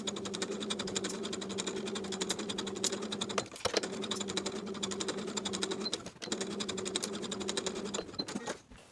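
A sewing machine bastes the edges of a skirt in place, running in a steady, fast, even buzz with two brief pauses, fairly quiet and alone.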